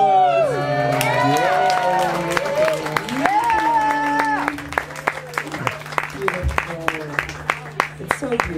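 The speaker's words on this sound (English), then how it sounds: "So round of applause" Applause with cheering at a live show at a small venue, loud crowd noise mixed with shouts and talk early on, thinning into scattered sharp claps toward the end.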